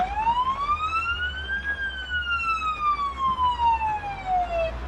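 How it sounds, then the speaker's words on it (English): A video game ambulance siren sweeps up in pitch then slowly falls, loud and close, over a steady low engine rumble, with no talking. "turn the siren off now that we're here."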